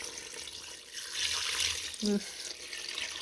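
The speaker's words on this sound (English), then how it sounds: "Tapos we'll add water. Our pot is so big." Tap water pouring into a big cooking pot, a soft hissing splash rising and falling, fairly faint, with a brief spoken word over it.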